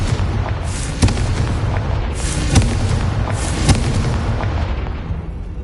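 Confringo fire spells burst in Hogwarts Legacy: three loud, booming explosions about a second apart, each with a rumbling tail, over a constant low game-ambience roar.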